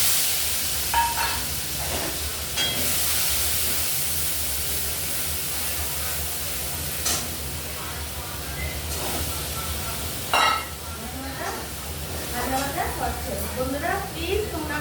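Whole spices, black cumin among them, sizzle and spit in hot oil for a Bengali stinging catfish curry. A steady hiss runs under someone speaking, with occasional stirring clatter and bursts of crackling toward the end.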